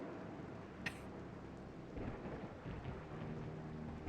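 Thunder from a lightning bolt in the adventure game Discworld Noir rumbles low and heavy through steady rain, a sharp crack near the start giving way to rolling, swelling thunder.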